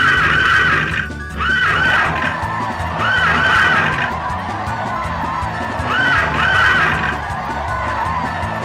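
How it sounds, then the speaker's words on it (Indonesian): Horses neigh and whinny in repeated bursts during a horse race in the Harvest Moon: Back to Nature video game, loud and close over a steady dense backdrop of game crowd and hoof noise. "Dan setelah itu balap kuda pun dimulai."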